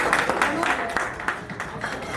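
Loud, sustained applause from a crowd at a family retirement ceremony, dense clapping filling the whole stretch without pause.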